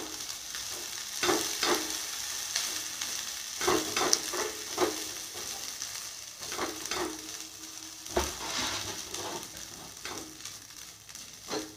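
Egg bhurji stirred and frying in a pan gives a steady close sizzle, with repeated scraping strokes of the spatula scattered through it and no voices.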